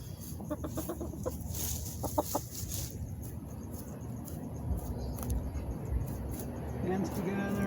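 Backyard chickens clucking in short bursts of rapid clucks against steady outdoor background noise, fairly close. A voice speaks faintly underneath during a full-moon yoga session with cats nearby.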